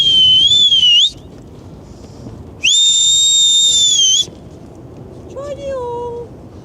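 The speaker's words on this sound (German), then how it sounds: "Pfeifen. Ein Schiff, ein Pfiff." Loud, sustained whistling in two long blasts, each over a second long and separated by a short pause, followed by a fainter wavering tone, with background murmur from an AIDAnova cruise ship at sunset sail-away bound for Norway.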